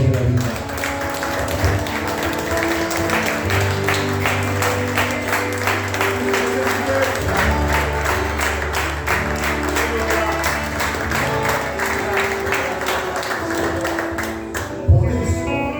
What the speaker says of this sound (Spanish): Den un aplauso al Dios de la vida.